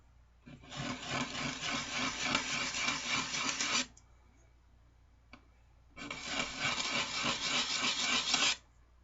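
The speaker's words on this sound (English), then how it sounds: "We'll sand that out. I just want it to look nice and even." Wooden knife scales sanded by hand with rough sandpaper give two long, steady rasping passes, each about three seconds, separated by a brief quiet gap, close and fairly loud.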